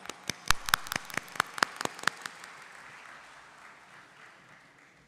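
A small audience at a corporate tax seminar claps to welcome a speaker, a handful of sharp, close claps at first, then a softer, diffuse patter that fades away with no voices.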